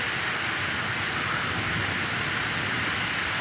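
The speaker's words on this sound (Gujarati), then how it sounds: "તોફાની વરસાદ છે આ," Heavy stormy downpour driven by wind over open farm fields, a steady dense roar of rain that fills the whole clip with no voices.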